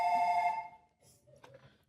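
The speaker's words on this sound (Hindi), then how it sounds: "अपना फोन बंद रखिए, बदतमीज लोग। जहाज में कोई फोन बजाता क्या?" A mobile phone rings aboard an airplane, a bright electronic ringtone that sounds loudly for about half a second and then cuts off, leaving faint rustling behind it.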